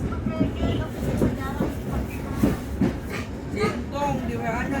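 A local train passes at a station on the Rangkasbitung–Merak line, with rhythmic clacking of wheels over rail joints and a rolling rumble under a busy platform.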